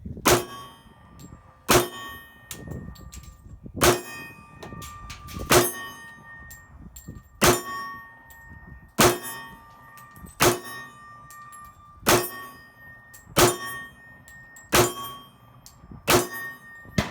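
A pistol fires at a steel man-sized target 40 yards away: a series of about ten sharp, ringing metallic clangs spaced roughly two seconds apart, each decaying into a brief ring, with no talk.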